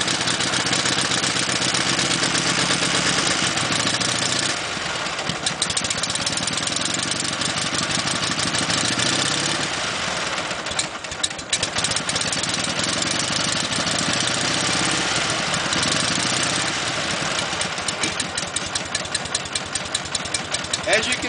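A Dnepr motorcycle engine idles after a kick-started cold start, a loud, close, steady mechanical chugging that runs for the whole stretch with slight dips.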